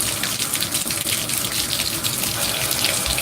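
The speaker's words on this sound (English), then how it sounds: "So, get our water going." Warm tap water runs steadily from a faucet into a sink while a doll's hair is washed, a continuous close gushing splash filling the whole stretch with no talking.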